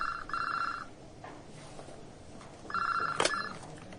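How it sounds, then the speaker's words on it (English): A desk telephone rings in two bursts of a bright electronic trill separated by a short quiet gap, heard clearly in an indoor office setting. "the phone on my desk rang."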